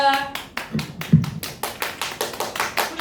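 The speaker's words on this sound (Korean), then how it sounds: "우리 이광석 실장님 큰 박수 부탁드립니다" An audience at an education lecture claps for 이광석 실장, about ten distinct, fairly even hand claps at a moderate pace, close and crisp, with a voice briefly heard at the start.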